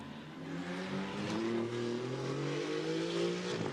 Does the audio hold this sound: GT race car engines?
yes